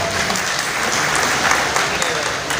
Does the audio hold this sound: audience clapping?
yes